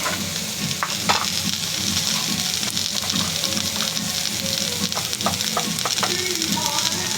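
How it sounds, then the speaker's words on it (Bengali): Ginger and garlic fry in mustard oil in a pan, giving a steady, close sizzle throughout, with occasional scraping stirs and clinks on top. "আদা রসুন তোলার পরে হালকা সরষের তেল দিতে হবে।"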